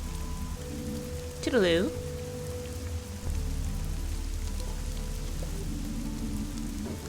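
Steady rain falls in the Fall of Porcupine video game, a soft, even patter under a brief spoken farewell and light game music.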